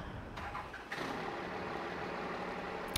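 An old Chevy engine, found in the woods after sitting for about two months and fitted with an MBRP exhaust tip, idles steadily nearby at moderate volume with a constant low rumble and no talk.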